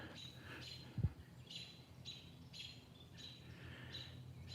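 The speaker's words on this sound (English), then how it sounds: "Trying to be quiet and hear the birds." Small birds chirp in short repeated high calls, soft and somewhat distant, outdoors beside a garden pond, over a quiet background with one brief low thump early on.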